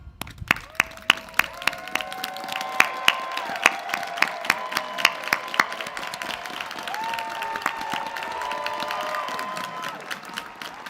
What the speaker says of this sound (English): I would like all the graduates and their families to stand up one more time and be recognized with applause